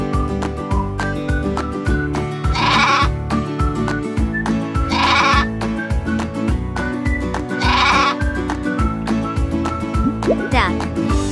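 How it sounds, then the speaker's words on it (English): Sheep bleating in a farm animal sound quiz for kids, three or four bleats spaced a few seconds apart over a steady, bouncy music backing. "Sheep."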